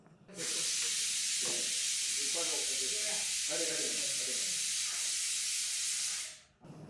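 Rice cooking in a pressure cooker for a Dasara Navaratri offering, its whistle releasing a loud, steady steam hiss for about six seconds before cutting off, with voices talking faintly underneath.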